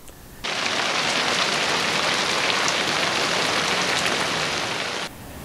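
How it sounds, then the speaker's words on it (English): A heavy rain downpour drums onto a fabric car cover, a dense steady hiss that starts abruptly, holds loud and even for about five seconds, then cuts back to a quieter background. "we had a pretty good little downpour"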